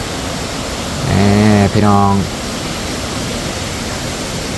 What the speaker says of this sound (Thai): น้ำตกงามพอสมควรแต่ว่าก็บ่ได้ใหญ่บ่ได้สูงปานใด